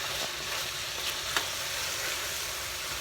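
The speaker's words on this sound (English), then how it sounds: "make sure it fries really well" Chicken curry frying in a pan, a constant close sizzle with a few light scrapes of stirring and no talking.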